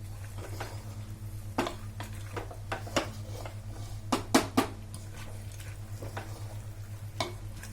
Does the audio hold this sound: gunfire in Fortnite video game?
no